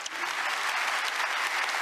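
Steady, even applause from an audience at a government policy presentation welcoming the next presenter, a continuous dense clatter of many hands.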